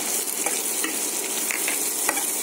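Chopped onion and whole cumin fry in white oil and get stirred, making a close, steady sizzle with soft scraping strokes and light clinks.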